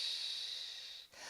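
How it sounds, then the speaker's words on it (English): A slow, deep exhale through the nose during a guided breathing exercise, a soft close hissing rush of air that holds steady for about a second, then breaks off and resumes faintly. "Breathe in through the nose, fill up that tummy, and then breathe out."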